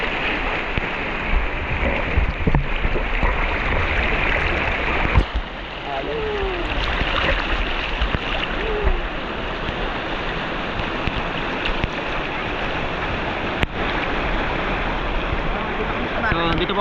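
Strong river current rushing steadily at Labi River in Nueva Ecija, a dense continuous wash of flowing water heard close by, with faint voices and occasional splashes underneath.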